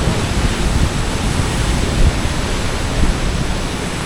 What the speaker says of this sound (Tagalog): Kasi malalaki alon.